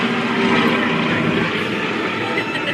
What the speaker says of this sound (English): what a way to fly on an airplane